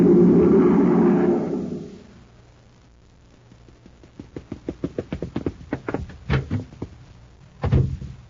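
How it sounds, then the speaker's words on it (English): Old-time radio drama sound effect of someone rushing out a door: a loud, rumbling whoosh that fades out, followed by a rapid series of sharp knocking, clattering thumps and a final bang. "A cyclone? Just Danny Fields rushing out the door to the grocery"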